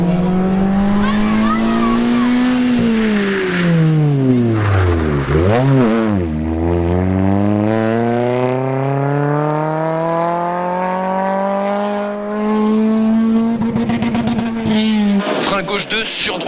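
Renault Clio 3 RS rally car racing on a stage, its engine revving hard up and down through gear changes, with loud rising and falling pitch sweeps and a co-driver talking over the roar.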